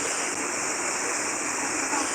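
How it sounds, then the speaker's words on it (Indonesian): A river swollen with overflow water from the Marapi crater rushes steadily near the mountain's hiking trail, a loud, continuous wash of flowing water with no pauses. "di sungai yang berasal dari Kawah Marapi di sana masih tetap mengalir di sana"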